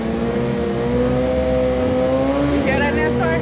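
Race cars revving on the track at the Ford Takeover event, a loud sustained engine roar with rising and falling pitch as the throttle changes, with a voice briefly speaking over it.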